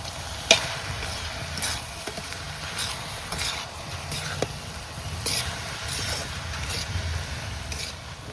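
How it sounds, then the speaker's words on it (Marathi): Cooked coconut rice with fried cashews and almonds is tossed in a pan, producing soft, irregular scrapes and light sizzle at a moderate distance, fairly quiet and without speech. "वरतून आपण तळलेले काजू आणि बदाम टाकायचे आणि हा भात आहे ना आपल्याला चांगला असा परतवून घ्यायचा आहे"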